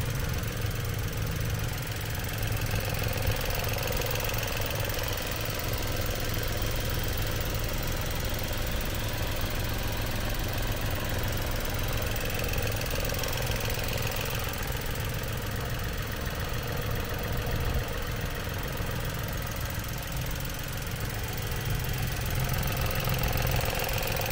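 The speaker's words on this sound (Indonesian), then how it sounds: "Suara irama mesinnya masih standar ya teman-teman ya, jadi teman-teman bisa dengar sendiri" A 2015 Nissan March XS automatic engine idles steadily, a continuous even hum with a faint rhythmic knock running throughout at low, constant level, with no talk over it.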